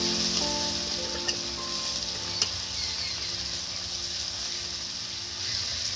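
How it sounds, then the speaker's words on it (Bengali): Crushed garlic paste hitting hot oil for a chicken curry makes a steady, close sizzle, with a couple of sharp utensil clicks and a faint humming tone underneath. "আর এই তেলে এবার দেখুন বন্ধুরা এই রসুন আমি দিয়ে দিচ্ছি। তুলে বাটা রসুন।"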